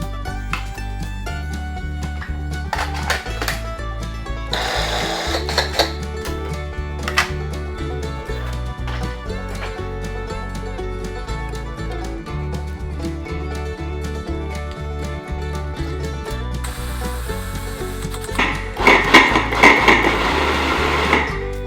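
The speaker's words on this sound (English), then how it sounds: "Throwing these in the food processor makes it so much easier" A Cuisinart food processor chops peppers, its motor whirring steadily with pulsing on-off bursts and rattling clatter of pieces against the bowl, loud and close throughout.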